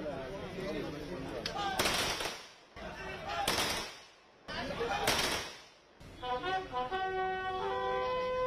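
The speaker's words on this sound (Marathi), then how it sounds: "यावेळी पोलिसांनी हवेत बंदुकीच्या फैरी झाडून रतन टाटा यांना मानवंदना दिली." Police fire three rifle volleys into the air as a gun salute at a state funeral in a cemetery, each crack sharp and loud and set several seconds apart.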